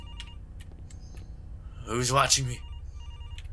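A telephone bell rings in two short bursts of rapid trilling, loud and close, with a voice speaking briefly nearby over a quiet background; no answering machine picks up.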